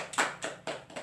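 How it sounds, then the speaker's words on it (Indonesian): Several crisp, separate handclaps ring out at close range in a classroom, applause for a student, fading quickly after about a second. "Beri tepuk tangan untuk Lisa"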